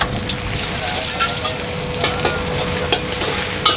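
Chicken cap cay with vegetables stir-fries in a wok at a busy food stall, a loud, dense sizzle with scraping and clinking of the spatula against the metal, no talking.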